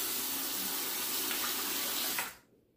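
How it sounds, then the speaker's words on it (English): Water running steadily from a tap to wet a razor, a bakelite slant safety razor: a continuous hissing splash that holds for about two seconds and then cuts off abruptly into quiet. "Now to wet the razor."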